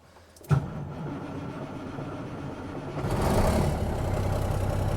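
A farm truck's engine cranks and catches with a sharp burst, then settles into a steady, fairly loud idle that swells slightly as it runs, with no talking over it.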